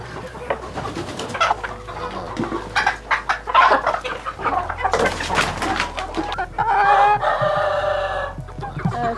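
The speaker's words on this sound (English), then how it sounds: "Ha tutte le galline." Chickens on a farm cluck and squawk in busy, overlapping bursts, several birds close by, with a rooster-like call rising near the end.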